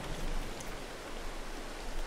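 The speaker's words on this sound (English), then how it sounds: "if only it wasn't raining. Come on, rain." Steady rain in Farming Simulator 22, a continuous soft hiss of falling drops with a faint low rumble beneath, unbroken and moderately quiet throughout.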